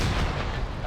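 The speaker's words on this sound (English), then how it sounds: "It did the cook-off where the turret flies out." A tank's ammunition rack cooks off in a military combat game, a loud dense blast that fills the whole short moment with sustained low rumble and crackle, as the turret is thrown clear.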